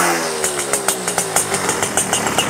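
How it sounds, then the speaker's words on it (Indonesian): Classic Suzuki two-stroke motorcycle engine running after a kick start, warming up with a rapid, steady popping idle and sharp regular pulses, fairly close and loud, with no voices. "Nah tuh bisa starternya. Dipanasin dikit, double starternya langsung jreng ya."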